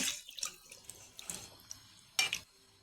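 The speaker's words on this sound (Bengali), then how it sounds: "এবার আমি এখন পরিমাণ মতন জল দিয়ে দেবো জলটা আমি একটু বেশি দেবো" Water is added to a pot of Bengali fish curry with potatoes, heard in a few soft splashing and trickling bursts, the last one the loudest, with quiet gaps between them.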